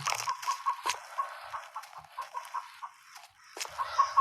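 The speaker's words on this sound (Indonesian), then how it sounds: "Suara ayam tuh di kiri di kanan" Chickens in an audio game cluck and chatter continuously in a busy, mid-pitched flurry, with a brief lull before the clucking picks up again.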